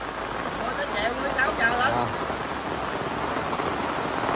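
A heavy downpour at a grave site keeps up a steady, loud wash of rain, with a faint voice-like murmur briefly rising over it near the middle.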